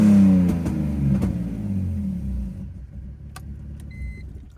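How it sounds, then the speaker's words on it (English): A BMW E46's engine gives one short, close rev that winds down in falling pitch to a low idle, heard outdoors in a quiet residential spot. "We're gonna give a little rev, but not too much"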